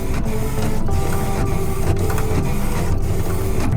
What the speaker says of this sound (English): we see a photo of Dan printing an image of the same frame